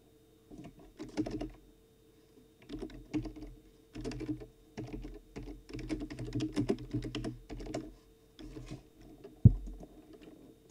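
Computer keyboard typing comes in irregular bursts of soft clicking separated by short pauses, close and fairly quiet, with one sharper knock near the end and no voices.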